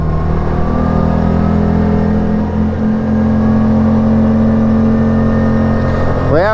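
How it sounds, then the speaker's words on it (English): A four-wheel-drive truck engine drones loud and steady up close on a snowy outing, holding a sustained note before rising sharply at the end as the vehicle pulls away. No talking. "Take the 4-wheel drive out."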